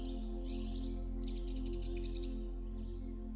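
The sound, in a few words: superb fairy-wren calls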